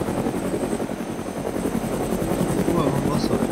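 Helicopter in the video game DayZ Epoch, a steady loud rotor and engine drone filling the whole clip as it passes overhead, with a player's voice talking over it.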